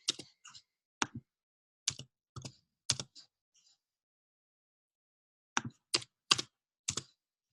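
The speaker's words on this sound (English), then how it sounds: "now you can hit tab and then another tab" A computer keyboard is tapped in two bursts of sharp, close clicks: several separate key presses, a pause of about two seconds, then a quicker run of presses including the tab key.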